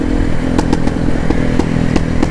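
Honda XR Tornado motorcycle with an aftermarket exhaust running steadily nearby, a loud continuous engine rumble with periodic sharp pops and crackles from the pipe.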